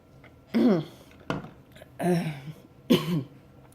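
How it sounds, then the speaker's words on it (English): Four sharp coughs after drinking water, in short bursts, close and fairly loud, with brief pauses between them. "Drinking water actually made me cough."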